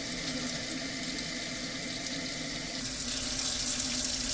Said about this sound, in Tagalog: Hugasan natin ang ating gulay.